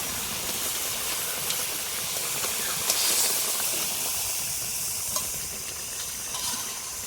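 Steady hiss and soft bubbling of a fish curry simmering in a pan with bhola fish added, close up, with a few faint clicks.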